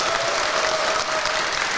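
Dense, steady applause from a live event crowd fills the moment, loud and continuous without pause.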